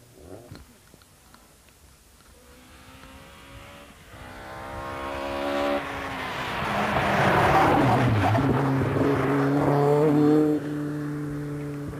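A rally car at Millstreet takes a turn at speed, its engine note climbing and swelling from moderate to loud as it approaches, then holding a strong rev before easing off near the end.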